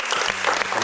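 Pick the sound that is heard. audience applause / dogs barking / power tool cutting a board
audience applause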